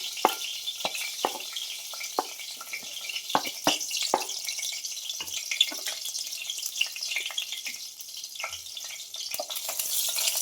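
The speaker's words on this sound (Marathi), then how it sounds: "दोन चार कडपत्त्याची पानं टाकली लसूण टाकते आता" Curry leaves and garlic fry hard in hot oil in a steel kadhai, a steady close sizzle with a spitting hiss and sharp crackling pops scattered through it, with no talk over it.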